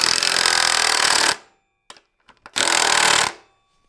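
A pneumatic impact gun tightens bolts during a car motor install, two loud rattling bursts, the first over a second long and the second shorter, separated by a gap with faint clicks and clunks.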